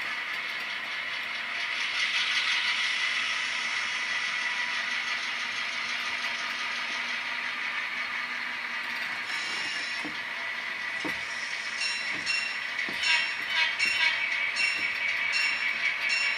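A freight train shifts boxcars and a hopper during switching, rumbling steadily at first before clanks, ratcheting couplers and clickety-clack rail impacts build up in the second half.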